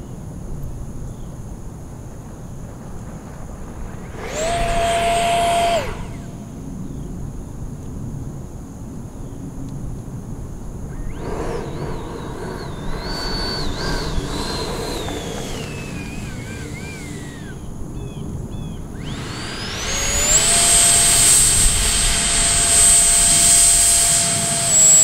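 An E-Flite Viper 70mm EDF model jet demonstrates thrust reversing after a grass landing: the ducted fan whines up in several loud surges, sweeping in pitch between quieter stretches of idle hum, ending in a strong sustained roar.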